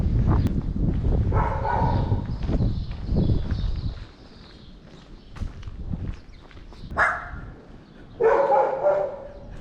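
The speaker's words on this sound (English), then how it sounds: "Great village guard dogs." Several village guard dogs bark in bursts in Ferrel, Portugal, some close and some farther off, with footsteps and outdoor ambience between the barks.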